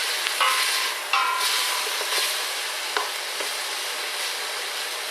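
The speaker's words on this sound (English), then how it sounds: "I'm going to put the butter in now." Butter melts and sizzles in a hot pan for a bacon and tomato risotto, a steady crackling fry throughout with occasional sharp pops and spits, close and fairly loud with no talking.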